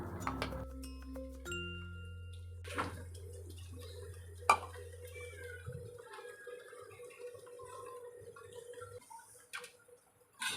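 Potatoes for crispy mustofa potato snacks are stirred in a dry wok, giving scattered close scrapes, taps and metallic clinks after a few tonal beeps at the start, with no talking.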